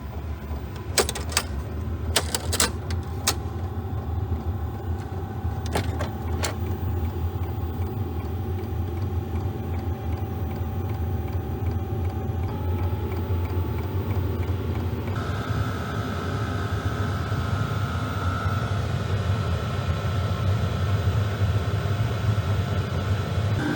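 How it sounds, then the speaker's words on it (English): A Sunster Bluetooth diesel heater runs with its blower giving a steady, close hum and broad airy rumble, a few brief clicks early on and a faint tone shift partway through, with no talking. "All you're doing, what you're hearing is just the blower."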